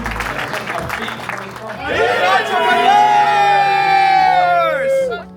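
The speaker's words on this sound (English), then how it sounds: "You guys give Steve a round of applause" An entrepreneurs' meetup crowd in an arena bursts into applause and cheering for Steve, with loud whoops and voices swelling over chatter and clapping, then fading near the end.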